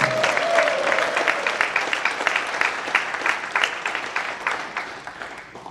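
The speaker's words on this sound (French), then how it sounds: "Merci d'applaudir Kirill Skatchkov" A crowd in a sports hall applauds as a table tennis player is introduced before a French team match; loud, sustained clapping with rhythmic peaks continues throughout.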